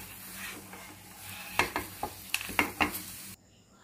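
Besan halwa with almonds and nuts stirred in a pan: a soft sizzle under a quick run of close, sharp scraping clicks from a spoon against the pan, ending abruptly.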